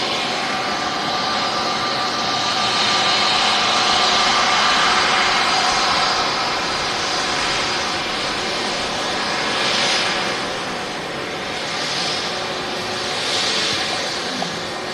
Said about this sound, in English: this aircraft is also an A320 Neo with Pegasus